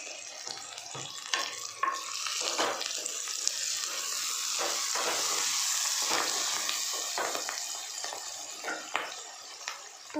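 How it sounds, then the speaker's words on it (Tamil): Onions sautéing in a pan with turmeric, for a variety rice dish, give a steady hiss and sizzle, with soft scraping and stirring clicks scattered over it, close and moderately loud, no talking. "வதங்கட்டும். மஞ்சள் கொஞ்சம் போட்டுக்கலாம்."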